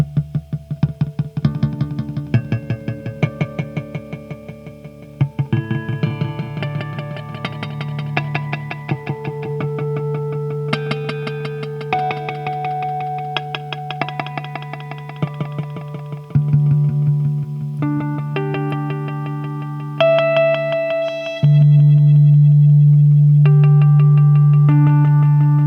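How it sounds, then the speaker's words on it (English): Second electric guitar with an echo pedal engaged, layered with another guitar, sustained harmonic tones and repeating notes trailing into echoes, steady and full throughout with no talking. "Get the echo pedal engaged"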